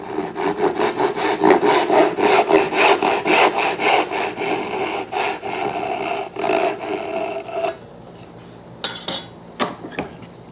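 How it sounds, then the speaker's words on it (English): A coping saw cuts out the center dovetail waste in a piece of wood held in a vise, giving steady rapid rasping strokes for about eight seconds, then a few sparse scrapes and taps. "I'm going to come in with the coping saw here and remove this center waist"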